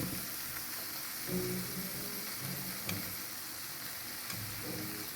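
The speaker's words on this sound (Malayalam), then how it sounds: "ഇനി നമുക്ക് നേരത്തെ എടുത്ത് വെച്ചിരുന്ന മുട്ട ഇതിലോട്ട് ഓരോന്നായിട്ട് മിക്സ് ചെയ്യാം" Eggs being mixed one at a time into a masala paste frying in a pan: a soft, even sizzle runs throughout, with a few faint stirring taps and low scrapes, quiet and close, no voices.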